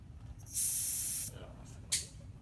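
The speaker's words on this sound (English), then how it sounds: "Got to deflate it, obviously." Air hisses out of a deflating front tire on a Honda Trail125 CT125 motorcycle in two close bursts, a sustained rush of about a second followed by a shorter spurt.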